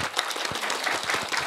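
An audience at a multicultural family forum applauds a speaker, a brief burst of fairly close clapping with distinct individual hand strikes.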